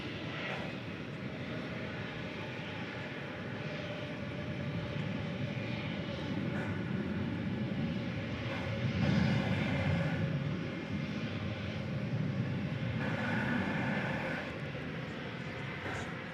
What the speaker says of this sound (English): A321, destination Las Vegas, flight 1890